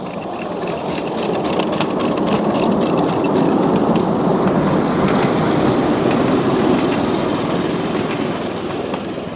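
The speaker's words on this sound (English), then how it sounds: "The first thing we're going to do is have a ride on this miniature railway." A miniature railway train at a steam railway runs along the track with a loud, continuous clattering rumble and rapid rhythmic ticking, close by throughout.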